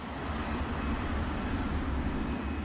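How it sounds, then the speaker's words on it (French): A KLM airliner turns on the runway and lines up for takeoff at Tenerife, its engines giving a steady, continuous low roar and rumble that holds at the same level throughout. "L'appareil de la KLM effectue sa rotation de 180 degrés et s'aligne pour le décollage."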